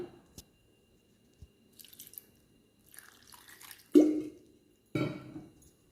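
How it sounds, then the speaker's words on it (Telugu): A short splash of water hitting a mixer jar holding ripe banana, then a second fuller pour, after a few faint drips and clinks in an otherwise quiet room. "కొంచెం వాటర్ పోస్తున్నాను"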